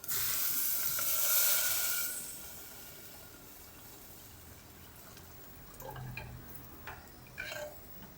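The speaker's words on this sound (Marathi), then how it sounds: "त्याच्यात ओतू पाणी" Water is poured into a hot pan of spiced oil for besan pitla, bursting into a loud hiss and sizzle that fades after about two seconds, followed by a few quieter clinks and splashes.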